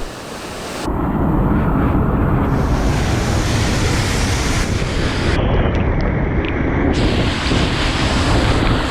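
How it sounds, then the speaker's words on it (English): Steady roar of falling water at Fish Falls in the Grampians, heard up close from beside the rocks as a dense, continuous wash with no voices. "you can even make your way along the edge of the rocks and get right in behind the waterfall"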